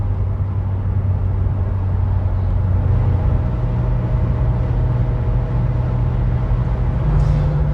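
Interior drone of a BMW E36 M3 Evolution with its 3.2 litre six-cylinder engine cruising on a commute, a steady loud low rumble and road noise, with the engine note rising slightly toward the end.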